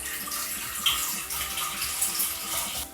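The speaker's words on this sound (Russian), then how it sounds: "Снова сливаем воду." Water drains from a jar of cucumbers and tomatoes being pickled, pouring and splashing steadily for a few seconds, a continuous gurgling stream that tapers off at the end.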